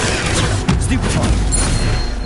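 A Stupefy stunning spell goes off during a Hogwarts Legacy battle against spiders, as a dense crackling blast with a sharp burst near the start, carried over continuous loud game sound.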